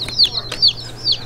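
Chicks peep in high, sweeping chirps, three or four quick calls close by over a low background hum.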